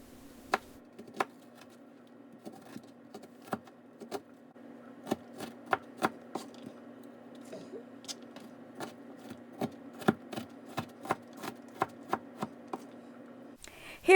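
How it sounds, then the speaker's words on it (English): Onions being sliced and diced on a cutting board with a knife, a series of sharp, close taps in an uneven rhythm that quicken in the middle, with no talking. "here I am slicing and dicing up my onions."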